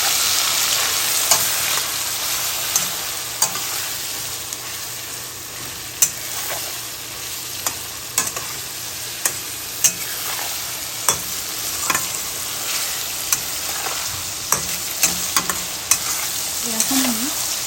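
Taro stolons (kochur loti) seasoned with salt and dried chili powder fry in a pan, a dense steady sizzle broken by frequent sharp scrapes and taps of stirring, close and loud with no voices.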